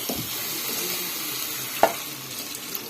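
Milk poured into grated carrot and bottle gourd frying in ghee in a pan, a soft steady sizzle with a sharp utensil clink partway through, close by and without speech.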